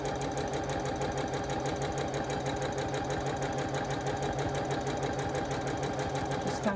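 Sewing machine stitching quilt pieces, a close, steady rapid mechanical chatter running evenly throughout with a slight shift in pace right at the end.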